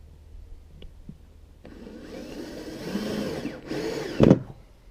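A power drill drives screws into soffit boards, a steady mechanical whir rising from about 1.6 seconds and running close and fairly loud to the end, with a sharp knock near the finish.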